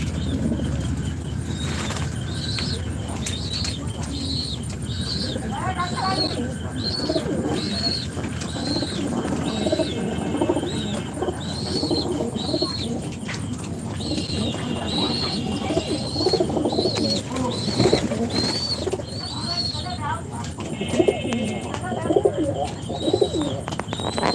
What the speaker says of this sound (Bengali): দেখছেন এটা হচ্ছে আমার হাইপলাইন কবুতর খামার